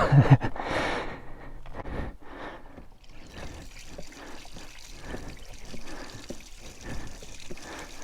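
Water trickles and splashes steadily over a sport bike's motorcycle chain, with a louder pour from a jug at the start easing into a continuous wet dribble.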